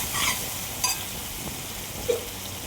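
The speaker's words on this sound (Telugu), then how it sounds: "పచ్చివాసన పోయేంత వరకు జింజర్ గార్లిక్ పేస్ట్ వెళ్ళిపోయేంత వరకు ఫ్రై చేసుకోవాలి ఆయిల్లో" Ginger garlic paste frying in hot oil for a fish curry, a steady soft sizzle with a couple of faint utensil clinks, close and continuous.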